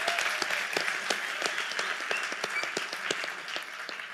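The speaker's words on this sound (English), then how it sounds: "You don't need to give me applause." Audience applause fills a DJ masterclass hall, a dense steady wash of many hands clapping with sharper individual claps standing out, sustained and fairly loud throughout.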